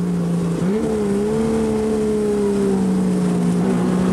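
A race car at Snetterton during the 1985 Willhire 24-hour race brakes and changes down into the S-bend, its loud engine drone dipping then rising with a gearshift, steady and close throughout.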